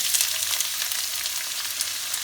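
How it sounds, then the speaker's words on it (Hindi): Four chopped onions frying in hot oil for aloo dum biryani make a continuous, close crackling sizzle. Small pops come through at an even level and no one speaks. "आलू दम बिरयानी बनाने के लिए हम 4 कटे हुए प्याज को फ्राई कर लेंगे।"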